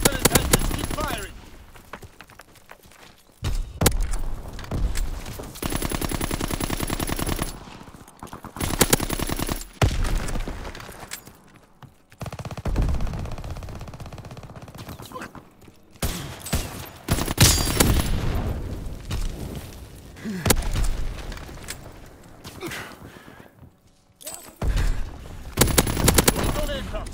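Sustained machine-gun bursts and rifle fire from a Call of Duty: WWII match, loud and nearly continuous with brief pauses, explosions now and then, and game radio voices speaking over the battle.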